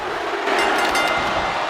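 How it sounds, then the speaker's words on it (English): A roaring arena crowd in the WWE 2K24 wrestling game swells as a pin is made on SmackDown, a loud, steady wash of cheering that builds midway and holds. "The crowd erupts as Stratton covers Shotzi."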